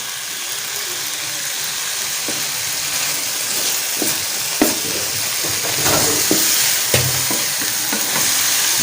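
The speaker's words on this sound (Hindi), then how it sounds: "अभी हम इस सारी सब्जियों को मिक्स कर देते हैं और बाकी जो इसके मसाले हैं वो भी डाल देते हैं" Chicken fajita vegetables and spices sizzle steadily in a hot pan, with repeated scraping stirs and clinks of the utensil over a constant frying hiss; no talking.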